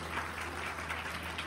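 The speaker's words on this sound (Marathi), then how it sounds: "एकदा टाळ्या वाजवून त्यांचं स्वागत करूया." An audience at a bhajan competition gives steady, moderately distant applause welcoming a winning group, a continuous patter of many hands over a low hum.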